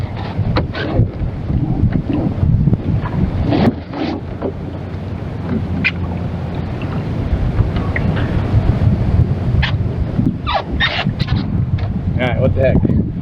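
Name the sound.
wind blowing while sailing a small dinghy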